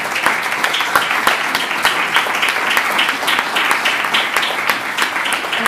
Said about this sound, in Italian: alla quale facciamo un fortissimo applauso.